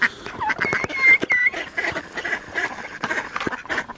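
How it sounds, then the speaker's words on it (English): Fowl sounds from a pen where a white call duck drinks from water while standing on a block, with short bird calls and splashy clatter scattered through a busy nearby background. "there's a white call duck drinking out of the water"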